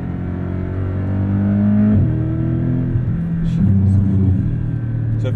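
Porsche sports car with a PDK gearbox accelerating at a driving experience center, a loud low engine drone rising and dropping with gear shifts, heard close from inside.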